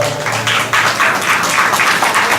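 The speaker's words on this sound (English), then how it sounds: "Let's give them a round of applause." A crowd at a community charity walk applauds a foundation donor, steady broad clapping that swells slightly after the start and holds at an even level throughout.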